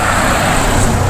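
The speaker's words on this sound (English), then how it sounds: "there's a car coming past" A car passes close by on a road near Surlingham, a loud continuous rush of engine and tyre noise that fills the whole short moment.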